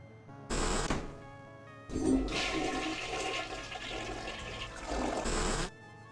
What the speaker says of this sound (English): Go to the restroom and flush it twice.